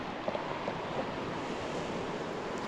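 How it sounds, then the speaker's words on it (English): Pacific Ocean surf at Seal Beach, a constant broad wash of waves mixed with wind rumbling on the microphone, steady and unbroken. "Been too long since I've been back to the ocean."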